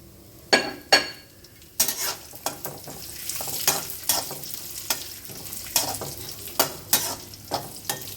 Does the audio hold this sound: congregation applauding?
no